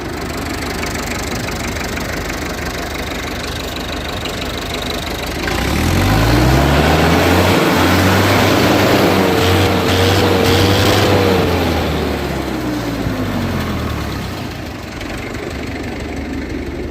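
An Enter 444 International four-cylinder 60 HP tractor engine runs loud and steady, its throb swelling as it revs up for several seconds before settling back toward idle.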